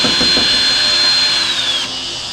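Power tool removing the two clamps that hold a school bus emergency warning light in its housing, a steady high whine running continuously and close, then dropping in pitch near the end.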